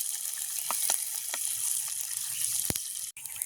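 Spices and aromatics sautéing in hot oil in a village kitchen pan, a steady bright sizzle with a few sharp scraping taps from stirring and a brief dropout near the end.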